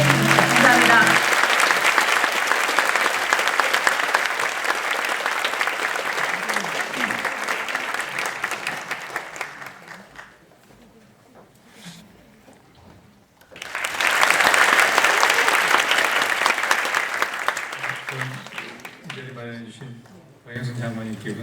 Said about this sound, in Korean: 힘찬 박수로 환영합니다